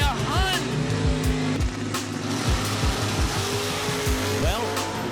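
Race cars at a Spring Fling Gallot event in Benson, NC, sweep past the track one after another, with sharp rising and falling engine whines, tire squeals and repeated close pass-bys over crowd and announcer chatter.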